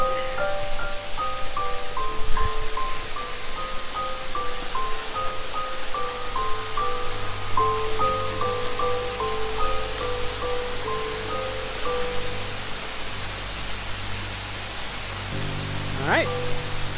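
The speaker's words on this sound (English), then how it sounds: "It's super loud here because the waterfall." Josefstaler waterfalls at Schliersee, Bavaria roar as a loud, constant rush of falling water, close and unbroken, with people talking faintly beneath it.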